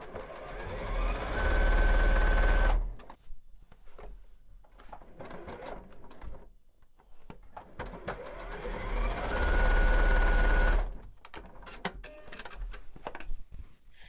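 Sewing machine stitching quilt block pieces together in rows, running in two loud steady bursts at the start and again near the end, with quieter handling sounds of fabric and the machine between runs.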